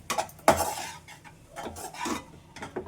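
Spoon scraping and stirring banana flower poriyal with grated coconut in a pan, in a few soft clinking strokes with faint sizzling and no talk.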